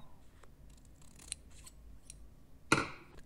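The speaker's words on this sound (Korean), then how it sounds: "특별할 것 없이 화면에 보이는 끝부분을 반으로 잘라주세요" Scissors snip through an adhesive bandage, cutting it in half: one sharp, close, crisp cut that stands out against a quiet background, with a few faint handling sounds before it.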